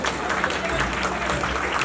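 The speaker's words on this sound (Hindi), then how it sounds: "एक बार हाथ उठा के जोरदार तालियां होनी चाहिए" A TV music show audience gives loud, sustained applause and cheering, a dense crowd roar that runs unbroken through the whole clip with no pauses.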